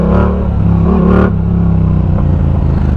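A Yamaha R7 motorcycle engine with a shifter revs loudly up close, rising to a peak around the middle before settling into a steady, throbbing idle.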